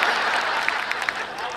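Audience at a Hindi stand-up comedy show applauding, a steady wash of many hands clapping throughout, fairly loud and close, with a few sharper individual claps poking out.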